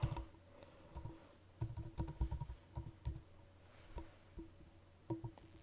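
Quiet, close keystrokes on a computer keyboard come in irregular bursts of clicks with short pauses between them, alone with no talking.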